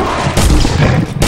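Gunfire aimed at Bigfoot in a video game comes as loud, booming shots, one after another, in a short burst with brief gaps between them.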